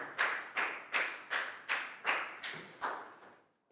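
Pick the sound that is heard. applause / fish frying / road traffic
applause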